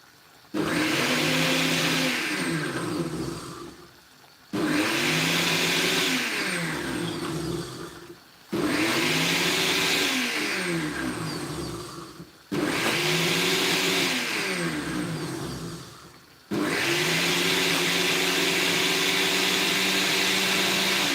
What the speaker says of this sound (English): So I blend it.